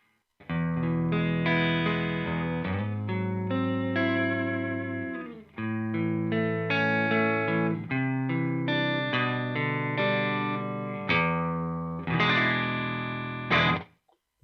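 An electric guitar played through a Headrush pedalboard on a clean scene rings out in sustained chords and single notes with bright harmonics and a touch of chorus, loud and steady with a brief break midway, no talking.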